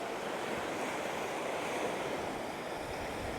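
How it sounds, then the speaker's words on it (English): Strong wind gusting across a tropical beach at Bamboo Beach, Koh Lanta, Thailand, a steady broadband rush blended with the wash of surf, loud and continuous throughout with no talking. "that was a strong gust of wind"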